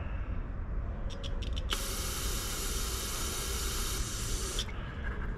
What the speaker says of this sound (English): So I'm just spraying.